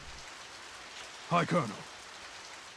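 Rain falling in the Radiant Historia: Perfect Chronology video game, a soft steady patter running throughout, with a brief spoken greeting over it midway.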